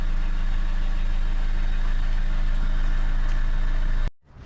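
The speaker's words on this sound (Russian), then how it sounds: "у нас сейчас заедет еще один Fit Shuttle" A Honda Fit Shuttle engine idles close by with a steady, even hum and faint vibration, then the sound cuts off abruptly near the end.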